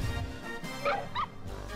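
Cartoonish puppy yips and woofs from the Woofy Zoo monsters in the Disgaea 3 video game, a couple of short high barks over busy game music and effects.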